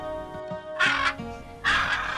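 Parrots squawk in an animated children's fairy tale, two harsh raspy calls in close succession, fairly loud and near over a faint musical background, with no talking.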